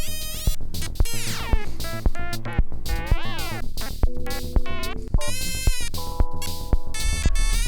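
Harsh, dissonant synthesizer tones pulse in a steady rhythm, with bright, edgy, buzzing notes sliding and clashing against each other.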